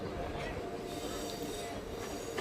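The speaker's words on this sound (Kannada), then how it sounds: "ನಮ್ಮ ಟ್ರೈನ್ ಈಗ ಎಂಟ್ರಿ ಆಗ್ತಿದೆ ಎಳವಿಗಿ ರೈಲ್ವೆ ಸ್ಟೇಷನ್ಗೆ" A MEMU train rolling into Elavigi railway station gives a steady, close rumble of wheels on rail with a faint squeal, continuous and unbroken throughout.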